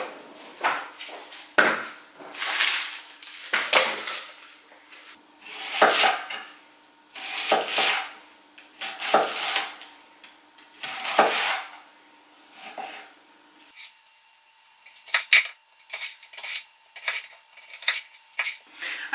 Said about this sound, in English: I'm going to do quite a rough chop because I like my pico de gallo pretty chunky and crispy